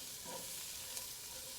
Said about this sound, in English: Because you hear that sizzle?